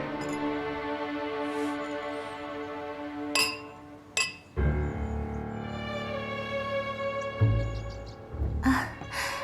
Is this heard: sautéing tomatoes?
no